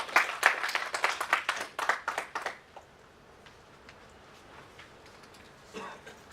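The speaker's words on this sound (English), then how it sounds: "Now let's welcome with warmth in our hearts and with a big round of applause our honorable speaker" Scattered clapping from a seminar audience welcoming a speaker on stage, a few seconds of uneven, fairly quiet claps that quickly die away into near silence, with a faint sound near the end.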